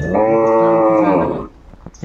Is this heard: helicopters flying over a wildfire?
no